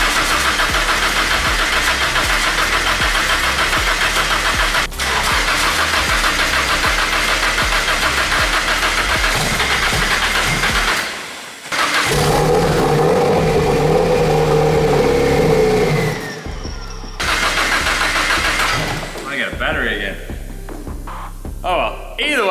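A freshly built E85-fuelled engine in a Nissan S13 drift car cranks and runs loudly for its first start, with a rough, uneven idle, a couple of abrupt cut-outs and people talking nearby.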